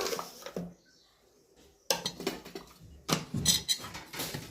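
A spoon mixes mashed sandwich filling in a bowl, making bursts of clattering, scraping clinks that start and stop in uneven spells, with short quiet gaps between.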